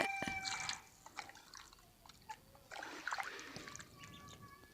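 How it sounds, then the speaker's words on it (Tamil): Water is poured over country chicken in a clay pot, giving faint drips and light trickling in short bursts against a quiet kitchen background, with occasional small clinks. "கோழிக்கறி மூடுற அளவுக்கு தண்ணி ஊற்றிக்கலாங்க"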